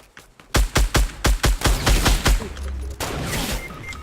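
Rapid volleys of gunfire from a Fortnite squads match, sharp repeated shots in a fast burst, then a quieter rumble of distant firing as the fight continues.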